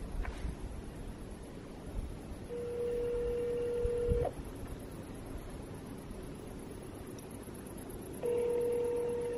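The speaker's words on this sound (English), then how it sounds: "I'm actually calling Daniel" Phone ringback tone while calling someone at night, steady long beeps separated by pauses, heard faintly over a hissy, noisy background with no talking.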